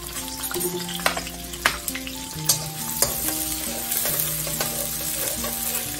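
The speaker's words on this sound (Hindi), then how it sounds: "ये ऑयल के बाद जाएगा ये प्याज।" Onion frying in hot oil for vegetable fried rice, with a steady close sizzle under repeated sharp clinks and scrapes of stirring throughout, no talking.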